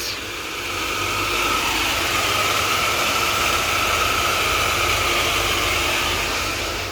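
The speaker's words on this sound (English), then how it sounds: "It's your pool equipment." Pool equipment running behind a house with a three-car garage, a loud, steady mechanical hum and whoosh of pump and motor, close by and unbroken.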